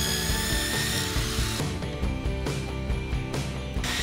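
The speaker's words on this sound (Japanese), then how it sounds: "ドリルで穴を開けていきます" Power drill boring holes in bamboo for bamboo lanterns, a steady whirring motor with harsh grinding bursts as the bit cuts into the wood, close and continuous.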